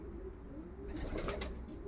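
A racing pigeon, a breeding hen, coos softly at the loft, a low steady murmur over a faint hum, swelling slightly toward the end.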